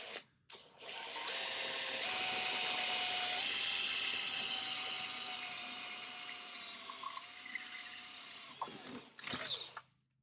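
A high-pitched 1/4-inch power drill whines steadily for several seconds, rising and then slowly winding down, with brief mechanical clicks at start and end.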